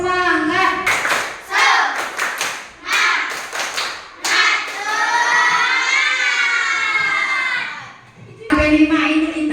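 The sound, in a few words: children doing a rhythmic clapping chant, tepuk semangat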